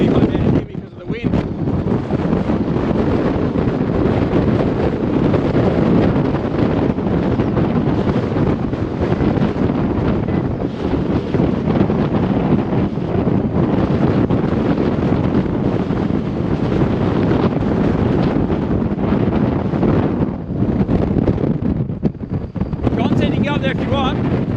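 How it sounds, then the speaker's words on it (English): Strong wind buffets the microphone at Weipa on Cape York, a loud continuous roar with gusty rumble throughout and a hint of water or surf beneath. "Because of the wind."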